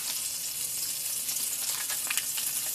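Butter melts and sizzles in a cast iron skillet, a soft, steady crackling hiss with small popping bursts, fairly quiet and heard alone.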